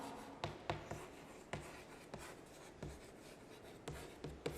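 Writing on a board gives faint scratchy strokes and light taps in an irregular rhythm, with no talk over them.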